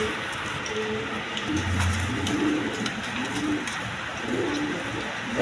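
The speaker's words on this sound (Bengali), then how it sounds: "এক পেয়ার অ্যান্ডোলেশন কালার হাউস পিজন কবুতর" Indian fantail house pigeons cooing, a low steady rumbling coo repeating through the stretch against light background noise, fairly close.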